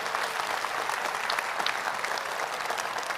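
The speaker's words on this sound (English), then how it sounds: "Let's give them a big round of applause." Sustained applause from a graduation ceremony audience fills the hall, a dense, steady wash of many hands clapping at once with no voices on top.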